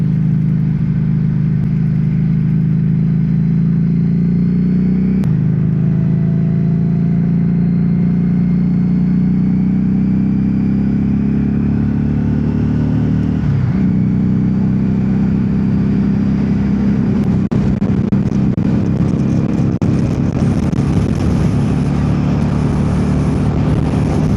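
Steady, loud engine drone from a Harley Davidson Street XG500 motorcycle cruising on the road, heard close up with wind rush and slight shifts in pitch as the speed changes.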